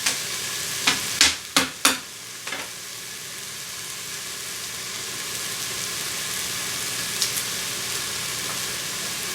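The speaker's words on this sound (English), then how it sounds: "I'm just going to smash my garlic." Garlic cloves smashed with a few sharp whacks on a board, four or five close, loud hits in quick succession, followed by a quieter steady background hiss and one faint later knock.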